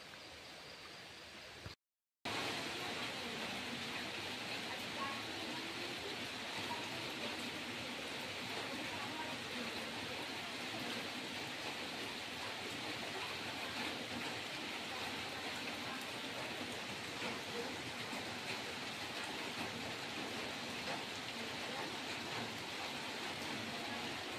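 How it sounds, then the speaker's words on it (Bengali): The Jhalong river in West Bengal flows in a steady, unbroken rush in the evening, with a faint high cricket drone layered over the water for the whole stretch. "সন্ধেবেলা ঝিঝি পোকার আওয়াজ সঙ্গে নদীর আওয়াজ"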